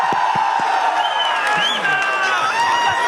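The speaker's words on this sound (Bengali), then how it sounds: "জোরে হাততালি সোমনাথের জন্য।" An audience claps and cheers for Somnath on stage at a live programme, a sustained dense burst of applause with whoops and a few voices calling out over it.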